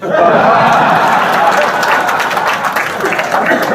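A large audience at a Golkar party political gathering bursts into loud, sustained applause, a dense wash of clapping that carries on for several seconds with crowd noise mixed in.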